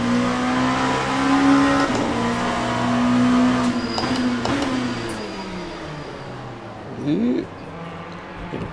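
Race car engine in a racing simulator game, running loud and steady through laps with rising and falling pitch as it accelerates and brakes, with a sharp gear-change sweep near the end.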